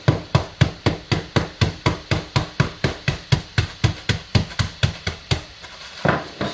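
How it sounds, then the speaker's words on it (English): The flat side of a meat tenderizer hammer smashes food in about twenty sharp, evenly spaced, loud blows that stop abruptly near the end. No talking is heard. "smash it in my hammer. Use my nice hammer. It's a meat tenderizer."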